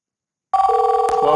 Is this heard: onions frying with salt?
no